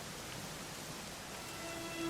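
Rain falls in the video game Dragon Quest XI S, a soft, steady hiss of drops that stays faint and even throughout, with no voices.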